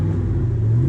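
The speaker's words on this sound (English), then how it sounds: "You actually can hear the clutch fan." A Chevy LS 5.3 engine idles with its clutch fan running, giving a steady, loud, low rumble and whir with no break.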